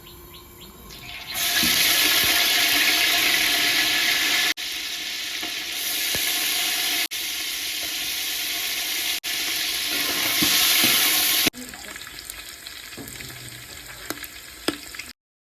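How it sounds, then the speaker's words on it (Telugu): Pieces of pre-boiled chicken fry in oil in a pan for a Rajula-style kodi pulav, giving a loud, steady, close sizzle that breaks off briefly a few times and then continues more quietly at the end. "బాగా ఫ్రై చేయాలి."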